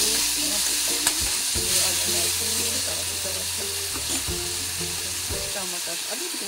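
Red onion and ginger fry in a pan with a steady, loud sizzle, broken by scraping and clattering as the mixture is stirred.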